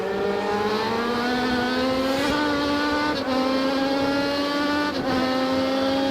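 On-board sound of a modified Legends race car at racing speed, its engine droning loud and continuous with steady harmonics that shift slightly through gear changes, with no talk.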